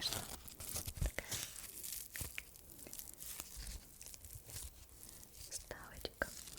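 The crunchy insert of a small souvenir purse from Turkey crinkles and crackles in close-up handling, with irregular crisp rustles and snaps beneath soft whispered speech.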